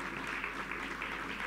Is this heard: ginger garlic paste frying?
no